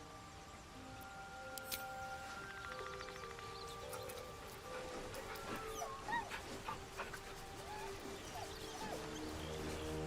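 A dog whimpers and yips in short, plaintive bursts within Baldur's Gate 3, heard close over a low game ambience and faint background tones, with no speech.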